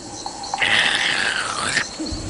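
A single drawn-out hoot voiced by a person imitating an owl, loud and close, wavering slightly in pitch before trailing off.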